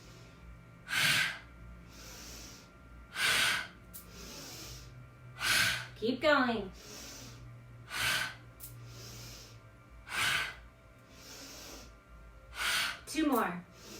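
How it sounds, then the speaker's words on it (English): Forceful exhales during a yoga breathing exercise, about eight sharp, breathy puffs at a steady rhythm with a faint voice between them and a few quick snorting sounds. "So every time you come up, you're going to exhale the air."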